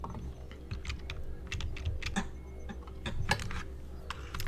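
Fingers tap keys on a wireless computer keyboard, a soft irregular stream of clicks and clacks at close range, quiet and steady with occasional louder strokes.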